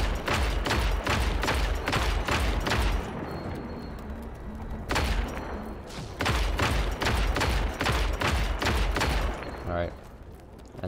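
Rapid bursts of video game gunfire crackle in loud volleys, stopping for a quieter stretch before resuming with more repeated shots, over faint background game sound.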